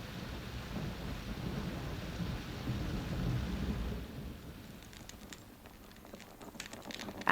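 A wet, stormy night with rumbling thunder and steady rain, a low roll that fades into patter with scattered crackling drops, heard alone without voices.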